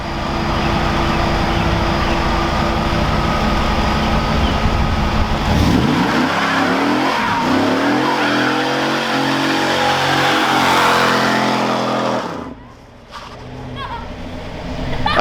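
A 1990s Camaro Z28 V8 drones loudly and steadily, then revs up and down in rising and falling sweeps for several seconds before dropping back to idle, with speech mixed in.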